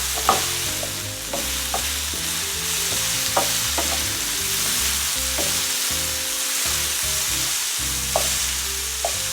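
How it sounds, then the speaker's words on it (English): Ground beef sizzles steadily while frying in a pan for black bean sauce noodles, a loud continuous crackle with a few stirring scrapes and clinks, no voices. "Oh, I love that sound of sizzling."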